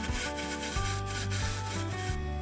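A skew chisel smooths wood spinning on a lathe, making a loud, continuous rubbing scrape over a steady low motor hum, with slight shifts in pitch as the cut moves.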